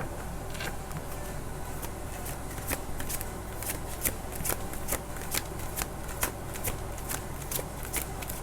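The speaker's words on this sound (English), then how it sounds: "These cards don't want to shuffle today." Playing cards are riffled and shuffled again and again, crisp flurries of rapid flicks and snaps repeating close up.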